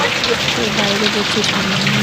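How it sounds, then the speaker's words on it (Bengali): Steady rain falls outside as a dense, even hiss, with a voice talking faintly underneath. "বৃষ্টি"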